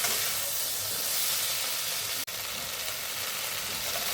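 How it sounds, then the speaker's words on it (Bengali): Ground spices, cumin and chili powder with ginger-garlic paste, fry in a pan for drumstick curry, giving a steady close hiss and sizzle throughout, broken once by a brief sharp click midway. "মশলাগুলো একটু ভাজা ভাজা হয়েছে।"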